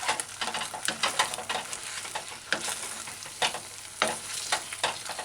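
Chicken and broccoli with oyster sauce stir-fried in a saucepan over a flame, with steady sizzling broken by repeated scraping, tossing stirs at irregular intervals, close and fairly loud.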